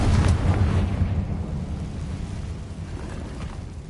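A Confringo explosive spell from the Hogwarts Legacy video game bursts at the start with a deep, rumbling boom, then decays into a long, noisy rumble that fades slowly, with no voices.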